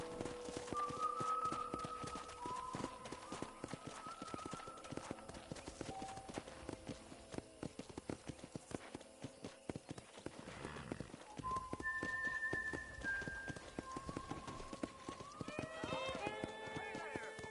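Steady horse hooves clip-clop throughout, with occasional whinnies and a musical score playing underneath, from the video game Red Dead Redemption.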